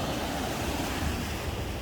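Sea waves wash steadily onto a wide beach of small pebbles at Himare, Albania, a continuous close roar of surf blended with wind buffeting the microphone, with no voices.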